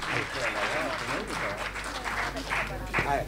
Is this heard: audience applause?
yes